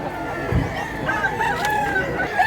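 A brass black rooster crows, a drawn-out call rising and falling close by, over a constant background of farmyard noise and faint voices.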